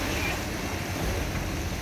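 Flooded Poisar river rushing through Kandivali, Mumbai after continuous rain, a steady dense roar of fast-moving water mixed with wind noise, loud and unbroken throughout, with no talking.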